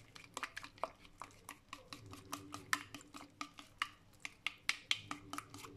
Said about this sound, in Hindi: इसको आपने अच्छी तरह मिक्स करना।